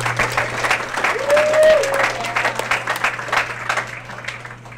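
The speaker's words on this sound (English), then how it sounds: "I think we owe a great round of applause to Angela" Applause for a hostess fills a packed venue as a steady wash of clapping, with a low constant hum and a faint voice underneath.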